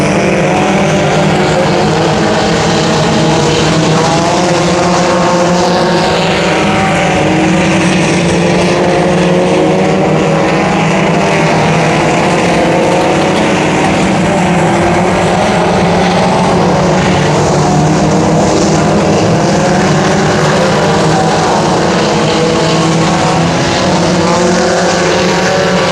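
Race cars circle the Brownstown Speedway track on a Fan Appreciation Night, a loud, continuous, dense engine roar that swells and layers as the cars pass, with no talk over it.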